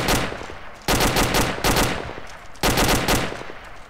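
Automatic rifle fire in the Arma tactical shooter, three loud, close bursts of rapid shots with brief gaps between them.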